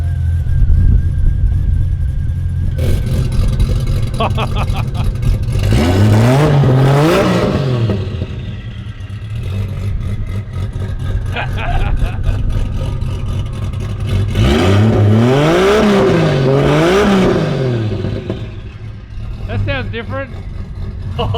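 A Ford Fairlane drag-build engine revs hard in two loud, sweeping bursts that climb and fall, with a rough idle rumbling between them and voices speaking nearby.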